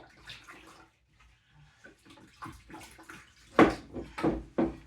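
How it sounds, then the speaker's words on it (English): Hands rinsed under running tap water while pre-sprouting ranunculus corms: splashing bursts that begin softly and grow louder and choppier toward the end, close up, with no speech. "let me rinse off my hands really fast."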